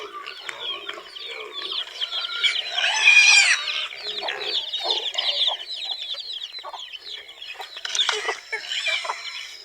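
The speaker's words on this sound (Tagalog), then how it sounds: "Sumusunod kay Joel yung mga manok natin." Several chickens cluck and chatter continuously nearby, with a louder burst of squawking partway through.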